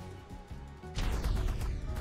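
A small bomb strikes a Terror Bird creature in the game ARK, giving one sudden loud burst that rolls on as a broad rumbling blast after a quieter moment of game sounds.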